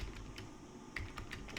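Keys are pressed on a computer keyboard, a few faint separate clicks close by against a quiet room.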